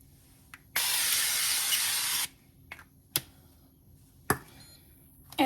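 Cooking spray hisses onto the bottom of an Instant Pot in a single steady burst of about a second and a half, close and bright, followed by a few sharp clicks and taps in a quiet kitchen.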